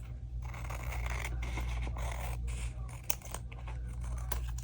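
Scissors trimming a small paper pocket on a one-page triple-fold layout, a steady run of close snipping and rustling cuts with brief pauses, under a constant low room hum.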